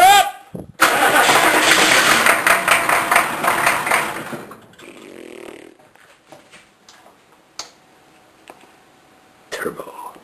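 Engine being cranked over and starting, a loud rough churning burst for several seconds that then cuts off, leaving quiet clicks and faint voices, with a short noise near the end.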